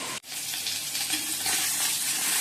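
Fish cooks in a pan of hot oil with a dense, loud, continuous frying hiss that holds steady throughout, broken only by one brief dip near the start.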